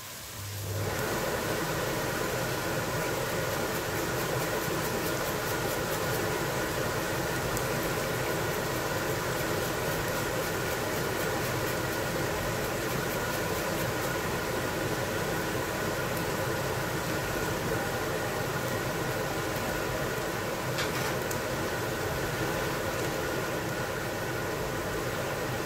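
A kitchen extractor hood fan running on high while cassoulet cooks, a loud, steady broadband whoosh that holds unchanged throughout with no talking.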